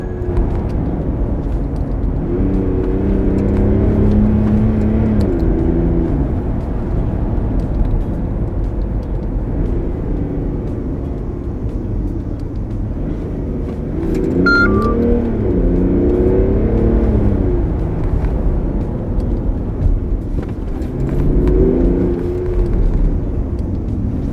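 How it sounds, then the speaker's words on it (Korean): A Mercedes-Benz S350d diesel engine rises and falls as the car accelerates on a winding road, eases off and speeds up again, a steady close drone with repeated surges of revving. "커브길 갔다가 와인딩 들어가고 급가속했다가 뭐 줄였다가 이런 길 소리만 들어보세요"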